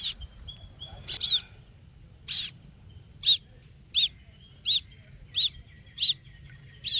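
A fallen baby bird chirps near its nest, a series of high, thin peeps repeating about every half to one second, clear and fairly close over a quiet background with no talk.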